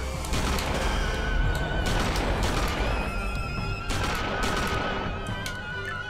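Gunfire in the Tomb Raider level editor game while shooting at harpies: loud, dense rapid shots rolling on without a break, with game effects layered over them.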